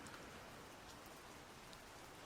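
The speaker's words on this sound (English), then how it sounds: "I kind of find comfort when I know that it's raining outside and I'm inside with you." Rain falls outside in a steady, even patter of drops on surfaces, soft and constant from start to finish, with no voices.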